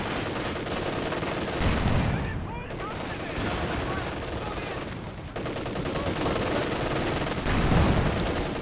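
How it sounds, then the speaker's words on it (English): Tank gunfire in a World War II video game battle, a Panzer IV firing amid dense, continuous rumbling explosions and shots that hold a steady loud level throughout, with a few swells and one brief dip. "I got a good hit with my Panzer IV just then"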